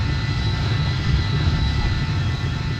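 A Vulcan bomber touches down hard at speed with tilted landing gear in the Roblox flight game PTFS. A loud, steady jet-engine roar runs unbroken throughout, with no distinct impact standing out.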